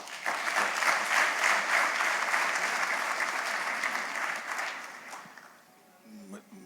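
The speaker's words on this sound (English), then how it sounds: "I think that itself calls for all three of them a round of applause." An audience at a TiEcon Mumbai session with Narayana Murthy breaks into dense, sustained applause that holds steady for several seconds, then thins out and fades near the end.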